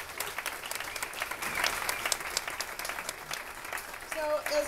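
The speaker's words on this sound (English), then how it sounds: "So let's give Stan another round of applause" Applause rises from a crowd gathered at the opening of Chicago House's TransLife Center, honoring Stan Sloan; steady clapping runs throughout at moderate volume, swelling slightly toward the end.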